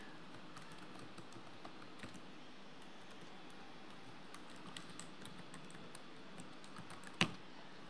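A computer keyboard clacks at a steady quick pace while email addresses are typed into Gmail, the keystrokes light and close, ending with one sharper, louder key press; no talk.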